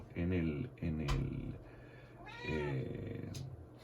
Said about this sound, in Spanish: aquí ya tenemos una visita de una gata